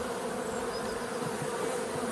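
Honeybees drone in a steady, dense hum throughout an open-hive inspection, close and continuous with no talking over it.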